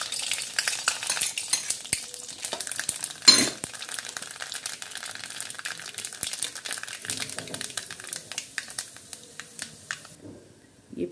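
Seeds hit a hot pan for a potato sabji and crackle and sizzle close up, with a sharp burst as they go in, then steady frying and stirring that gradually fades.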